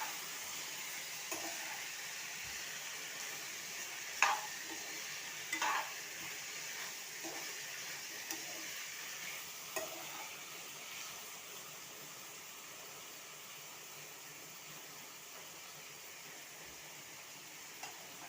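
Potato fry (aloo fry) being stirred and mixed in a pan: a faint, steady sizzle runs throughout, with a few soft scrapes and clinks of the spoon against the pan, and no talking.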